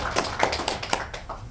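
Scattered claps from a seated audience at a Korean political gathering, a few sparse hand claps tapering off quickly within a couple of seconds, moderately close.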